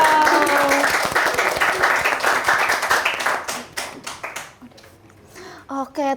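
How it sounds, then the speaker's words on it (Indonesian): An audience at a library talk event claps together in a quick burst of applause that thins out and fades, followed by a short voice at the end. "Tepuk tangannya dulu dong."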